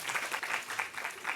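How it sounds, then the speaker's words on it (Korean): Short burst of audience applause at a talk concert for a climate and environment leadership program, a brief patter of clapping heard at moderate distance. "여러분 박수."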